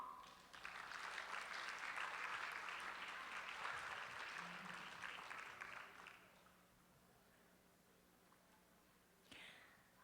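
Distant audience applause, a sustained crowd clapping that swells then fades out, followed by quiet room tone and a faint sound near the end.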